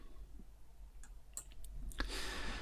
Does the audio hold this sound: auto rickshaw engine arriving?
no